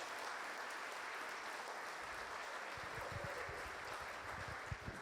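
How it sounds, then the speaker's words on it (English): Audience applause at an evening senior-of-the-year awards reception, a steady, dense wash of clapping from a crowd that continues throughout, with a few sharper claps standing out near the end. "Round of applause."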